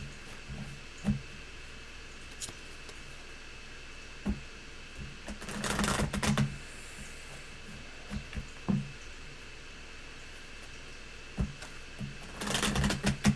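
Tarot cards being shuffled by hand, with soft riffling bursts around six seconds and again near thirteen seconds, separated by quieter handling taps and light rustles, close and fairly faint.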